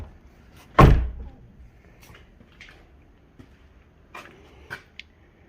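Ford Bronco door slams shut with one loud, heavy thunk, followed by quieter clicks and small knocks as the doors are handled.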